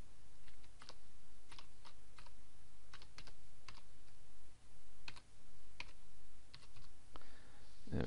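A computer keyboard is typed on while a directory name is entered, irregular close clicks in short bursts with brief pauses, quiet and without talking.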